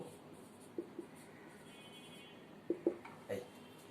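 Chalk or marker tapping and scraping on a board in a Bangladeshi classroom lesson, a few short strokes spread across the moment, faint against low room noise.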